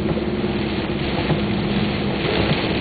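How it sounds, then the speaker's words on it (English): Strong side wind gusting during a Florida thunderstorm: a dense, steady roaring buffet that stays loud and close throughout, with no voices. "Look at that side wind."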